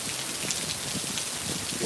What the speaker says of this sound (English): We've got a steady downpour now.